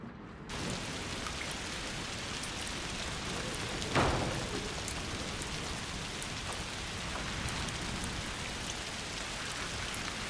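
Heavy rain pours steadily in the video game A Plague Tale: Requiem, a dense continuous roar of downpour with a brief louder swell partway through.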